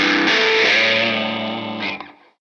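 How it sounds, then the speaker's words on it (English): Electric guitar played through a Spaceman Sputnik 3 fuzz pedal, with the neck selector on bridge and middle and treble turned up: a loud, saturated fuzzy chord that sustains and fades out after about two seconds. "What fuzz is that? The Spaceman Sputnik 3 Sounds great."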